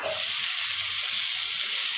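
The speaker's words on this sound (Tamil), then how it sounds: "முருங்கைக்காய் சேர்த்துட்டு கொஞ்சம் நேரத்துக்கு இந்த எண்ணெயில் நல்லா வதக்கிடலாம்." Steady loud sizzling of drumstick (moringa) pieces frying in hot oil, a continuous bright hiss with soft bubbling and occasional stirring knocks.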